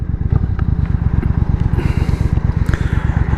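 A Triumph Bonneville America motorcycle on the move gives a loud, steady, low pulsing engine thump with wind rush over it, and no talking.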